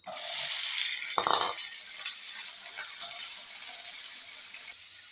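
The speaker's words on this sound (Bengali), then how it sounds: "এদিকে আমি কড়াই চাপিয়ে দিয়েছি, এদিকে আলুটা ভেজে নেব" Potato pieces dropped into hot oil in a wok hiss into a loud, steady sizzle, with a brief clatter of stirring early on, close and continuous with no talking.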